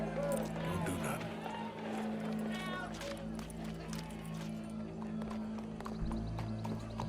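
Horse hooves clop and run in the game Red Dead Redemption 2, a rhythmic thudding beneath a busy mix of crowd noise, game music and people talking, with an occasional whinny.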